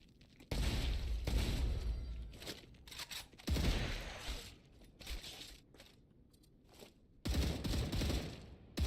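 Loud shotgun blasts from the video game Star Rupture ring out in several bursts, each a heavy roar with a long rumbling tail, separated by short pauses and mechanical clatter.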